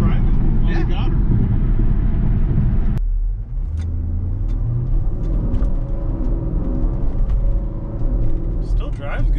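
A Porsche with engine problems drives along, its engine giving a steady loud low rumble inside the cabin while people talk over it.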